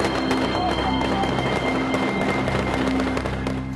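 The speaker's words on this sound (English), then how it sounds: "Explosions, gunfire, lead and shrapnel screaming through the air." Rapid crackling bangs and pops go off continuously, like a barrage of explosions and gunfire heard from a moderate distance at a zoo in wartime Tripoli, with a steady tone humming underneath.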